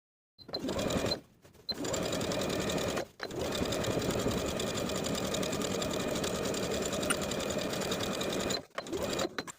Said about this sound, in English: from the front of the garment, you can top stitch this entire seam along the back pant piece, catching the seam allowance in your stitches